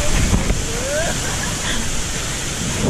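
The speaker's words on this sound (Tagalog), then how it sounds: "sobrang lakas ng alon" Heavy surf from a strong typhoon crashes and roars continuously along the shore, mixed with wind rushing past the microphone; a faint voice is briefly audible underneath.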